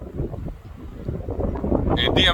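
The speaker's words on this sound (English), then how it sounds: "it's mad windy out here" Strong outdoor wind buffets the microphone in a steady, heavy low rumble with gusty surges, loud throughout the short stretch.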